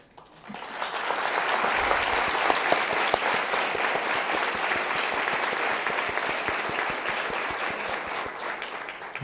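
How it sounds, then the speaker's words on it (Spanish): A large audience at a members' assembly applauds continuously and loudly, the clapping holding steady for several seconds after a quick start. "les pido un aplauso para esos fundadores"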